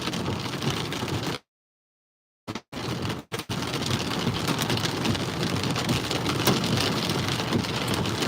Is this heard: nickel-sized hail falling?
yes